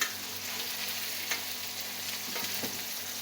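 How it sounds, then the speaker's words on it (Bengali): Fish frying in a pan, a continuous close sizzle and crackle with occasional soft spatula scrapes and pops, steady throughout with no voices. "আমার হয়ে গেল মাছের ভাজা"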